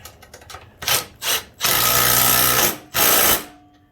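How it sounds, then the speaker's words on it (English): A 14 mm impact wrench tightens a bolt during a MB200/Hurricane minibike assembly. A few quick ratchet clicks lead into short whirring bursts, then one long sustained buzz and a final shorter burst, loud and close. "You're going to get your 14 impact and your wrench."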